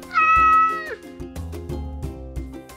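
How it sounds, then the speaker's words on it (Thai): A cat gives a single loud, close meow lasting under a second, followed by light rhythmic musical tones. "A cat ran on a desk."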